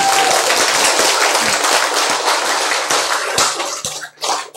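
Dense audience applause from a lecture hall fills the air with steady, loud clapping that thins and breaks into a few last scattered claps at the end.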